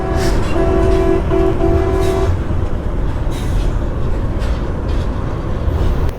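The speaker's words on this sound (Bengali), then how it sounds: "যমুনা সেতুতে ট্রেন এত আসতে যায়" A train crosses the Jamuna bridge, a loud, steady rumble running throughout, with a sustained horn-like tone sounding over it for the first two seconds.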